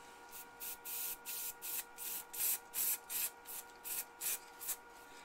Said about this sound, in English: I could just spray in the tip so you don't see it